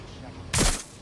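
A single loud, sharp burst of gunfire in the video game Watch Dogs: Legion cracks out mid-clip and quickly decays over a quiet background.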